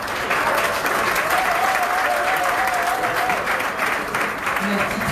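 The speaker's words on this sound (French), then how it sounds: "Sous vos applaudissements, s'il vous plaît." An audience claps steadily at a family ceremony honouring a father, dense continuous applause from a crowd that holds level throughout, with a voice faintly audible beneath it.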